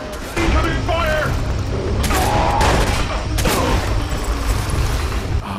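Dense, loud gunfire and booming blasts from a boss battle in the video game Watch Dogs, a continuous barrage close up with a voice talking over it.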